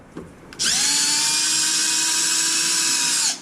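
A power drill driving out screws while a Super Typhon build is dismantled: a brief click, then a single loud, steady high-pitched whine running about three seconds before stopping abruptly, heard alone.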